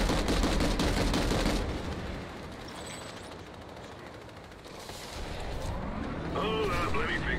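Gunfire in a loud, dense burst of cracks at the start, fading to softer scattered shots and then rising again, with a voice audible briefly near the end.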